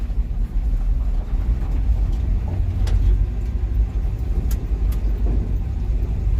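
A vehicle with a rebuilt Dodge 318 V8 runs steadily, a loud, low, continuous rumble heard close by with no talking.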